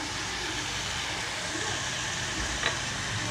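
Onions and mutton keema fry with whole garam masala in a pan, a steady, moderately loud sizzle with one brief scrape of a spoon, and no one talks.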